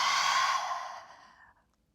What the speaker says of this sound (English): Lion's breath with the tongue sticking out on an exhale.